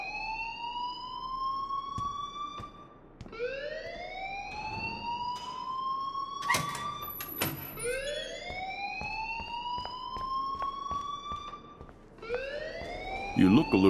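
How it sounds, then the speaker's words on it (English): A school alarm in the Life Is Strange video game wails in repeated rising, siren-like sweeps, loud and steady throughout, with a few sharp clanks breaking in between cycles. "please turn off that alarm since that's your job"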